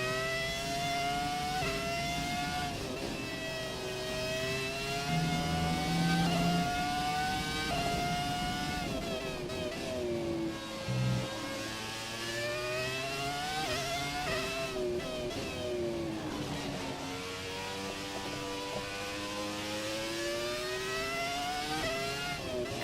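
Ferrari F2004 Formula One engine in a racing video game, revving continuously with rising and falling pitch through short-shifted gear changes as it struggles for traction with traction control on, loud and steady throughout.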